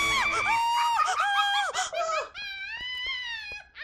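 A woman screams alone at night in an empty house, a series of loud, high, wavering shrieks that break off and start again, then settle into one long sustained wail.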